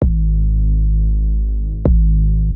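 Loud, sustained 808 and synth bass play without limiter ducking, with two kick drum hits barely standing out from the steady low rumble; no voices.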